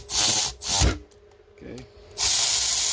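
Milwaukee 1/4 inch power driver snugging bolts in a crisscross pattern on a Pro R front differential, giving three short, loud whirring bursts close by with quiet pauses between them.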